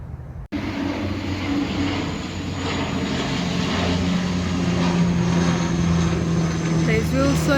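Airplane passing overhead near Wilson Airport in Nairobi, a steady broad engine drone that holds loud and fairly close across the whole stretch, with voices murmuring faintly beneath it.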